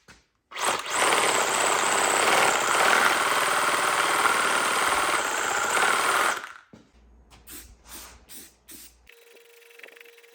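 Pressure washer blasting a Dana 30 axle clean, a loud continuous hiss lasting about six seconds, then stopping, followed by a few short bursts and faint clatter.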